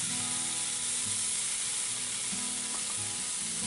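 Chopped tomatoes landing in hot ginger-garlic masala for a pangas fish curry, giving a loud, continuous close sizzle with stirring scrapes and no talk.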